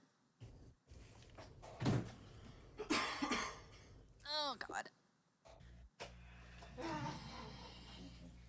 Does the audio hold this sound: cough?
yes